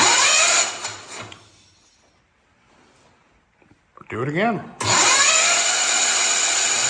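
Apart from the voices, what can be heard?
hot rod Ford engine cranking on the starter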